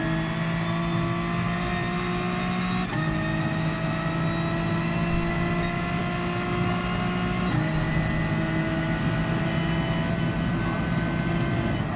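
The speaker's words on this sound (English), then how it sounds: "then start accelerating, shift it up, get the old slipstream working." Racing car engine in Gran Turismo Sport drones loudly and steadily, its pitch climbing and then dropping sharply at each upshift, with shifts near the 3- and 7.5-second marks.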